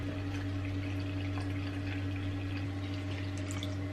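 Hot water pours from a still-warm kettle during home baking, a steady continuous splashing rush over a low hum, close and moderately loud.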